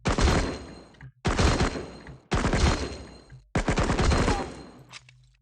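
Close-range gunfire in the video game Cover Fire, four loud sustained bursts of rapid shots with brief silent gaps between them, no talking.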